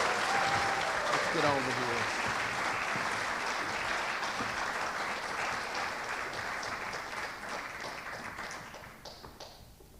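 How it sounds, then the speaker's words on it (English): At a community awards show, an audience applauds award recipients with full, steady clapping that slowly fades near the end, while someone speaks briefly over it. "Give them a big round of applause."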